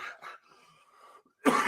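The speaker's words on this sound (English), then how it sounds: "coughing." Two short, sharp coughs close up, a pause with faint breathy noise, then a louder, harsher cough at the end.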